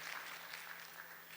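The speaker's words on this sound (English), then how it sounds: "Can we have a round of applause for everyone who contributed?" An audience at a DevFest tech conference talk applauds. The faint, even clapping sounds distant and soft and lasts only briefly.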